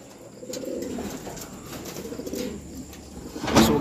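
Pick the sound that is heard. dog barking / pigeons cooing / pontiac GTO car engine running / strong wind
pigeons cooing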